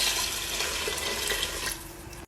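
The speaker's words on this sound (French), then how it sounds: "je vais mettre l'eau" Water pours steadily into a Cookeo electric pressure cooker pot, a close, continuous splashing rush that drops off abruptly near the end.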